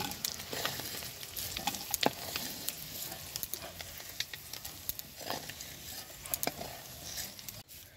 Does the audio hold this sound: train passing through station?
no